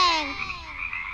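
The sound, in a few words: frog croaking in a children's cartoon rhyme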